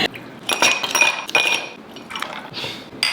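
Glasses clinking together in a toast with gin drinks, several bright glassy chinks in quick succession with faint liquid sounds, close by and without talk.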